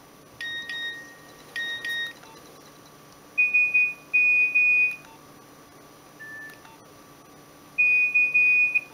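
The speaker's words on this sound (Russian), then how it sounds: "Сигналы о сообщении еще есть." A Nokia 1200 mobile phone plays its message alert tones: short electronic beeps, first two paired chirps, then longer sustained beep patterns with gaps between, clear and close with no talking.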